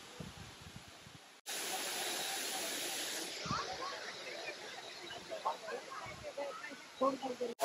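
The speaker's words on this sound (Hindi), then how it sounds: "आवाज सुनाई दे रही है झरने की," Steady hissing roar of a rock garden waterfall fills the scene, close and loud, with voices chatting over the rushing water.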